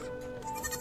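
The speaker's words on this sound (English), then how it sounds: "just look at the little goats going around." Goats bleat in VRChat, a short wavering bleat rising over a low game background hum, moderately near and alone without talk.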